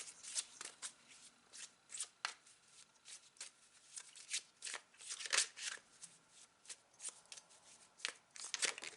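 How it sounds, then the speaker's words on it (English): Tarot cards are shuffled close by in a quiet room, with repeated soft riffles and flicks at an irregular pace for several seconds. "So I'm going to pull out a final card to close out your reading."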